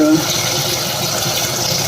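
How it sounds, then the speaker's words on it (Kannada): Water is poured into a cooking pot while making fenugreek gojju, a steady, loud, close rushing splash lasting about two seconds without a break. "ಇವಾಗ ನಾನು ನೀರು ಹಾಕ್ತೀನಿ"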